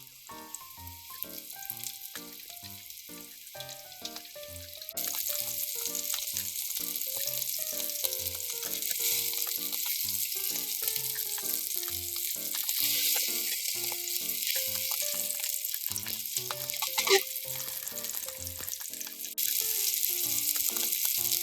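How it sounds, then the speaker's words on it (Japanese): Yellowtail (buri) fillets frying in a pan give a continuous, bright sizzle that swells louder after a few seconds and holds steady under background music. "同じフライパンにブリを入れて両面を2分ずつぐらい焼きます。"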